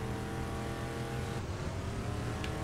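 Steady engine drone of a car driven in Lego Worlds, a continuous mid-level hum held evenly throughout with no talk.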